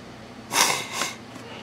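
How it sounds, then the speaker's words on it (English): A person sniffles twice through the nose, two quick, soft, close intakes of breath heard alone in a quiet room. "Sorry if I'm sniffling."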